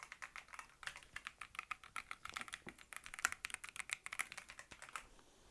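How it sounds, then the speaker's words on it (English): Typing on a new Razer Blackwidow V4 mechanical keyboard with RGB lighting, a fast, continuous run of crisp, close key clicks and clacks with no voices. "So I just plugged it in. Bro, hear this."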